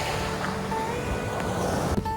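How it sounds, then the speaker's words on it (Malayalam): Sea waves off the coast at Al-Kout in Kuwait, a steady broadband wash of surf with a distant boat-like hum and some wind, continuous and moderately loud with no talk. "ഈ കടലിൻ്റെ തിരകൾ ഇങ്ങനെ നോക്കിയിരിക്കാൻ നല്ല രസമാണ്."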